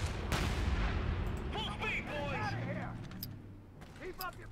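A mortar team fires during a Company of Heroes 3 battle. A booming report opens the clip, and rumbling battle noise follows while a synthetic game voice speaks in the middle.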